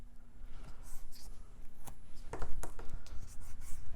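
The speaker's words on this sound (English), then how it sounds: "I'm going to put a little tear and tape again on this 1/2 inch" Double-sided Tear and Tape adhesive is pressed and peeled along a vellum treat box cover, giving soft scratchy rubs and a few sharp crinkly snaps of paper, close and quiet.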